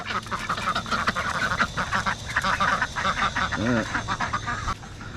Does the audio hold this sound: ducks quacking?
yes